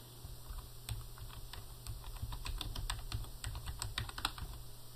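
Steady computer keyboard typing as a company name is entered into customer records software, a quick irregular run of close key clicks over a low hum, with no talking.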